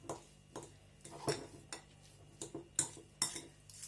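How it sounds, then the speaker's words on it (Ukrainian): A spoon stirs crushed boiled egg filling in a small bowl, giving a string of light clinks and scrapes at an uneven rhythm, close by and quiet, with no voices. "Перемішаю добре."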